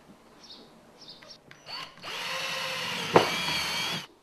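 A power drill bores through a steel car body panel, the motor whining steadily for about two seconds after a few brief taps and clicks, loud and close with a sharp bite partway through.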